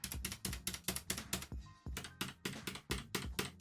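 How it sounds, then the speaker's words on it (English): Clicky mechanical keyboard keys tapped in a steady, quick rhythm, close and fairly quiet, with a short pause midway. "The first one was me typing on the bigger one, and then that was the other one"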